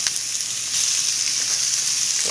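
Wood ear mushrooms, carrot and paprika stir-frying in a pan give a brief, steady, close hiss of sizzling with faint stirring.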